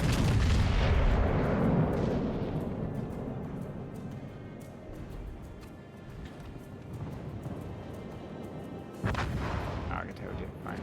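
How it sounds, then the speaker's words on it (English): Battleship main guns firing a salvo in World of Warships, a broad booming roar at the start that decays into a rumbling background, with another heavy burst near the end. "One salvo if I can."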